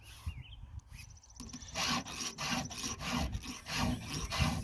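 Rhythmic rasping of a hand file stroking across the chain of a Husqvarna 394XP chainsaw, repeated steady strokes at close range with no talking.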